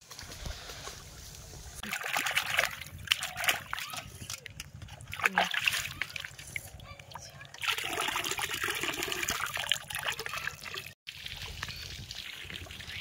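Water sloshes and splashes inside a container holding freshly caught pond prawns, coming in uneven close bursts and trickles, with voices talking nearby.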